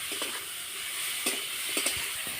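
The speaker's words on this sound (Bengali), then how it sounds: "সমস্ত মশলা আমি একসাথে দিয়ে দিচ্ছি এইভাবে ভালো করে কষিয়ে নিতে হবে" Spices and potatoes sautéed together in a pan for a Bengali potato curry, with a steady low sizzle and a few soft scraping stirs of the spatula, fairly quiet and close, no voices.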